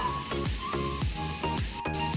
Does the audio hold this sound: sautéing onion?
yes